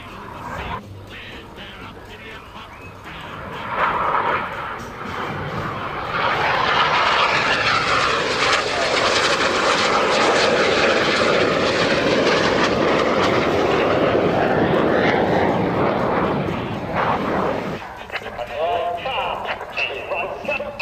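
Red Arrows jet aircraft roaring through a flying display at Fairford, a loud sustained rush of jet noise building and swelling for around twelve seconds before easing, with a commentator's voice heard over it.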